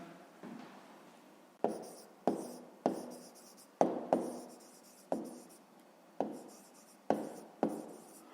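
Handwritten solution to a fifth-grade math exercise: a close, quiet series of about a dozen distinct scratching strokes in an uneven rhythm, each with a sharp onset and fading tail, with no talk.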